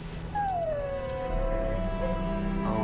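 A dog whimpers and lets out a drawn-out, sliding howl in the fantasy role-playing game Dragon Age Origins, clear and close over a low steady game-ambience drone.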